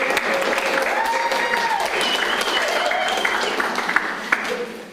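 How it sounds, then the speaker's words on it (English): Seminar audience applauding a guest art speaker, a steady dense wash of many hands clapping that holds for about five seconds and thins slightly at the end, with a few faint voices underneath. "let's clap for Blaire."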